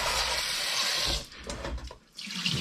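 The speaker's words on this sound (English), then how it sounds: "I'm gonna go over to the sink, give them a quick rinse." Tap water runs steadily into a kitchen sink while fresh tomatillos and peppers are rinsed beneath it, a loud continuous gush that briefly breaks and thins before surging back.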